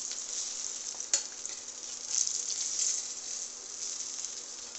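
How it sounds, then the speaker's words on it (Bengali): Fish frying in hot oil in a pan, a continuous hiss and crackle held close, with one sharp pop of spatter early on and brief swells of sizzling. "একটু বেশি করে কড়া করে ভাজবো, একটু লাল লাল করে একটু চাপে চাপে ভাজে দেবো"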